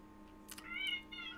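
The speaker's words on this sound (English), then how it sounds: "There's a cat!" A cat gives a short, faint meow, a brief rising cry in a quiet room.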